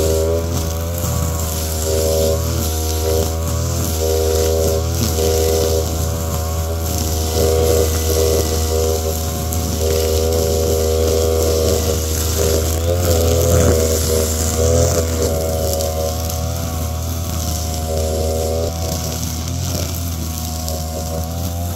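Brush cutter trimming grass in early summer on a farm plot: a steady, droning engine whine with strong harmonics runs throughout, close and constant, with slight fluctuations as the blade works.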